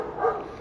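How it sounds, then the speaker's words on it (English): A single short dog bark or yip, muffled and somewhat distant, heard briefly around a garage during a house refurbishment. "I can hear the dogs barking"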